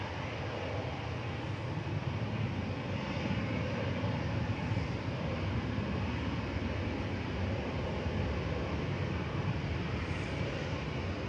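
A passenger airliner, Flight 1026 from Heraklion, at Manchester Airport gives off a steady, loud engine roar that holds evenly throughout, heard alone with no voices.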